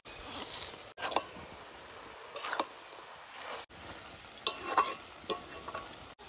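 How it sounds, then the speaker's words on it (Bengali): Fried chicken pieces are tossed into cabbage in a hot pan, giving a steady close sizzle broken by repeated scraping stirs of a spatula and a few brief clattering pauses. "এখন ভেজে রাখা মাংসগুলো দিয়ে দেবো।"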